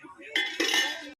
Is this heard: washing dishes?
yes